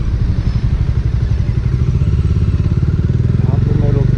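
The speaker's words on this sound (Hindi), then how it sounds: "यहाँ पे मैं रोकता हूँ बाइक" A Bajaj Dominar 400 motorcycle engine runs loud and close with a steady mid-pitched throb, settling as the bike pulls up and comes to a stop.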